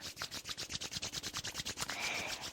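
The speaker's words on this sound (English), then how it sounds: "Rub your palms together." Palms rub briskly back and forth during a guided relaxation exercise, making a soft rhythmic swishing of about a dozen quick strokes. The rubbing is close and gentle, ending in a brief smoother friction.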